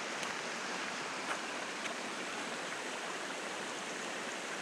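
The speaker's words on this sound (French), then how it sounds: "Dans le fond, la petite rivière est là où c'est que je me ravitaille en eau" A small river flowing near a bridge and cabins at a camp, a steady, soft rushing of water heard from a short distance, continuous and unchanging with no voices.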